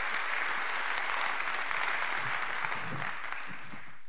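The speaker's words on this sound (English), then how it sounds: "It's worth applauding." Steady congregation applause fills a church gathering, dense and continuous, fading slightly toward the end with no talk over it.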